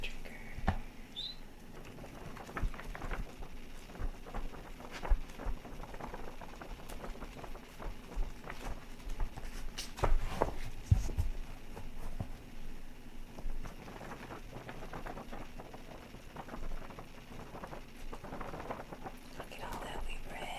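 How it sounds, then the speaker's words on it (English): Pages of a vintage book handled and turned close to the microphone, with soft crinkling and rustling paper sounds in a quiet room and faint whispering throughout. "Now for some book triggers and paper triggers."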